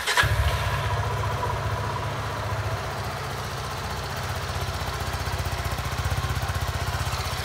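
A 2023 Suzuki V-Strom SX 250, a 250cc adventure motorcycle, starts with a brief sharp crank and catch, then settles into a close, steady, even idle throbbing that continues to the end, with no talking.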